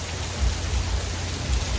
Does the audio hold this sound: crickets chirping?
no